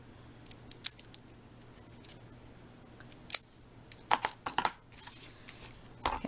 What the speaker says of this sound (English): I'm going to cut down this banner just a little bit.